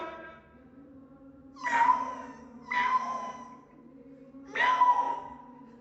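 A human voice imitates a cat meowing in three drawn-out, whining meows spaced about a second apart, clear and close over a quiet background hum.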